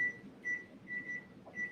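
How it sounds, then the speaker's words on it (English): A kitchen timer beeps four times in a steady, evenly spaced rhythm. The beeps are thin and fairly faint over quiet room noise, with no talking. "Love the kitchen timer."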